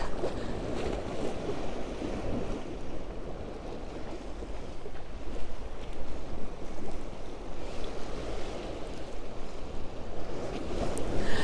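Steady, heavy wind buffets the microphone over Magaluf beach in Mallorca, with a constant low roar and gusts swelling louder toward the end; no voices.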